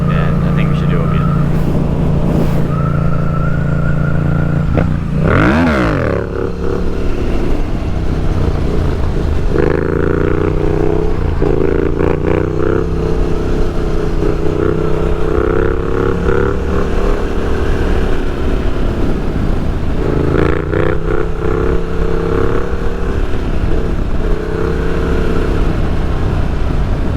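At night a motorcycle engine revs up and down in rising and falling pulls during a wheelie, steady and fairly close, with a voice talking over parts of it.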